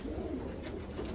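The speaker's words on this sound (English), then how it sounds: "just so the birds can start waking up, getting their morning drink of water" Pigeons in a loft in the morning, soft low cooing close by, continuous over a brief moment with no voices.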